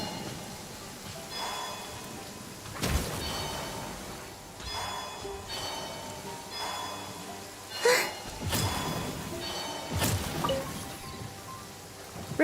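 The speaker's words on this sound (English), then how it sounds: "Taking shelter and listening to the rain cleanse the earth makes me feel safe." Rain falls steadily in Genshin Impact, a soft continuous patter with a few louder splashes and gusts rising above it.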